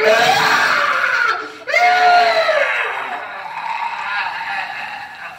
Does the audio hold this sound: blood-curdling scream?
yes